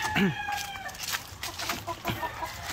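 Pure white leghorn hens cluck and a rooster crows near the start on a farm, followed by scattered clucks and clatter of the flock, close and lively.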